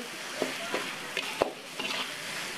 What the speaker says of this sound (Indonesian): Ini langsung kita tumis lagi.